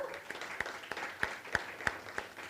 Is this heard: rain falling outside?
no